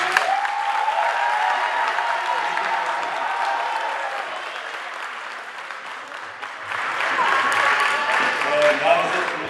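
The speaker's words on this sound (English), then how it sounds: "if you could all please give a round of applause to Mr." Audience applause at a Founder's Day 2019 ceremony honoring a staff member: sustained crowd clapping, moderately loud, easing slightly midway and then swelling again, with voices and cheers threaded through it.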